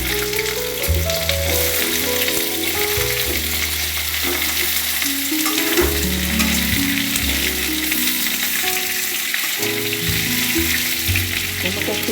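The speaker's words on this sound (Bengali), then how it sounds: "আলুটা ভাজা ভাজা হয়ে এসছে। এবার আমি কুমড়োটা দিয়ে দেবো।" Potato and pumpkin fry steadily in a pan with oil, a continuous loud sizzle and crackle holding without pause, while a low intermittent hum runs underneath.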